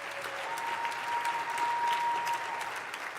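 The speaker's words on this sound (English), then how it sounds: "Give her a round of applause." A celebrity roast audience breaks into sustained applause, a dense, even roar of many hands clapping that holds steady from start to finish.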